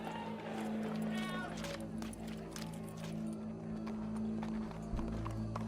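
Horse hooves clip-clopping at a walk in Red Dead Redemption 2, heard fairly quietly under a steady low hum and game ambience, with voices talking over it.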